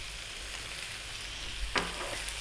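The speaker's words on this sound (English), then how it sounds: "Stir frying this around" Chili frying in a garlic and ginger paste for a vegan mushroom potato curry, a steady close sizzle with a brief burst of scraping as the pan is stirred.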